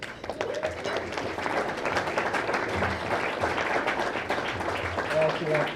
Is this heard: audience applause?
yes